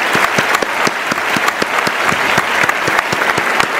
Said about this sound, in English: let's give our warmest applause for these absolutely beautiful NGOs